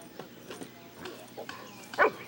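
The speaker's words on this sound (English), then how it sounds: "Bandit, there's no barking in the park" A dog playing in a park gives a few short yips and one louder bark near the end, close by, with faint sounds around it.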